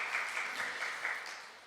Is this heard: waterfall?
no